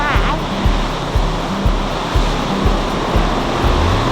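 Ocean waves on the Oregon coast make a steady broadband roar with repeated low thumps roughly every half second, loud and close, with no voices.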